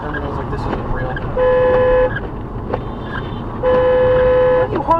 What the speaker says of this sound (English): Why are you honking at me